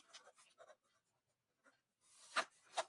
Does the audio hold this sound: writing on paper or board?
yes